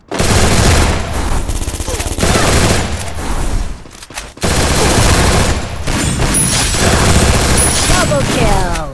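Rapid video game gunfire, dense bursts of automatic shots and booms running nearly nonstop, loud and close, with a short lull partway through before the firing resumes.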